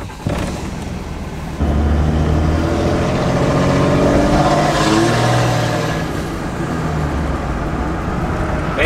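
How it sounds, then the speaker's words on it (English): A 5.9 Cummins diesel truck with a street pipe exhaust accelerates hard, its deep engine roar building loud and close as gears pull through, a steady heavy drone with no talking. "just see how hard this truck really just pulls, even though we're still technically just under stock power with basically a street pipe exhaust"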